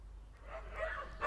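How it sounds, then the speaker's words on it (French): Faint dogs bark and yip in the distance, several short overlapping calls rising over a low hum. "une meute de chiens se dirige vers eux pour les attaquer."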